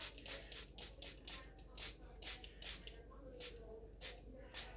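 A hand-pumped spray bottle mists Norwex Fresh Produce Wash over half a head of broccoli, about a dozen quick sharp hissing spritzes in an irregular rhythm, close and fairly quiet.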